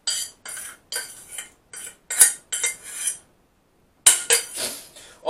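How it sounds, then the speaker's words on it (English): Rice, beans and pastrami meat are tipped into a metal pan in a run of close, clattering scrapes and clinks, with a brief pause before a final few bursts of metallic rattling. "just dump all the rice and the beans and the pastrami meat"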